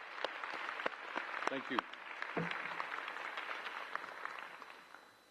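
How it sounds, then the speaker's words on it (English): A commencement audience at the University of Utah Asia Campus breaks into applause, a sustained wash of clapping that carries on for several seconds, with a brief spoken word near the start. "Please join me in giving them a round of applause."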